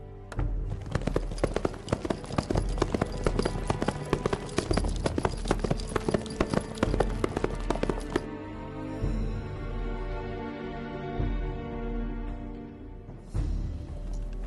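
Horse hooves clip-clop in a busy, uneven patter as a horse is readied in a Chinese costume drama, loud and close for about eight seconds before fading into softer music, with a brief return of hoofbeats near the end.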